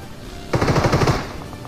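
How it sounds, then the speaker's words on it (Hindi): Groza assault rifle firing in PUBG/BGMI, a rapid automatic burst of about eight close, loud shots lasting roughly half a second, trailing into a fading echo. "वो वाला बंदा ग्रोजा का फायर भी करता है"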